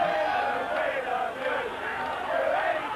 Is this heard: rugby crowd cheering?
yes